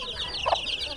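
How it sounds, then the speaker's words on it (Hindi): A mother hen in a Pakistani village clucks while feeding her newly hatched chicks, a short soft cluck rising over steady outdoor farmyard background noise. "एक मुर्गी ने बच्चे निकाले हुए हैं, ये बच्चे साथ पिला रही है"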